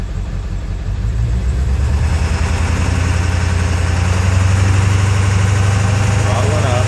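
Ford 7.3 Powerstroke diesel idling roughly in drive, with a misfiring injector: a loud, steady low engine rumble with uneven pulsing throughout, growing slightly heavier partway through.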